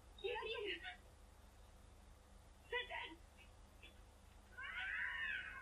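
Cats fighting in an anime episode, with a few sharp yowls and a rising caterwaul, fairly faint against a quiet background.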